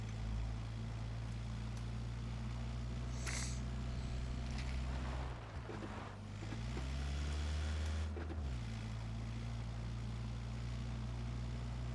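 A vehicle engine drives steadily in PUBG: a loud, continuous droning hum that briefly dips and shifts pitch as the vehicle changes speed, with a few faint clattering bumps, no talk.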